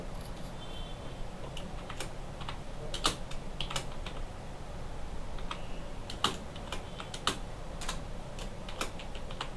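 Quiet, uneven keystrokes on a computer keyboard while text is entered in Microsoft Word, some taps sharper than others, heard alone against a faint room background.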